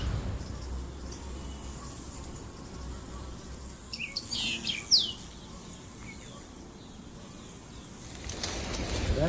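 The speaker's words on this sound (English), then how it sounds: "once you get above 19 degrees centigrade, the insects are flying" Insects buzz faintly in a warm South African garden in Southport, with a brief louder pass of buzzing and bird-like chirps midway over a steady low outdoor background.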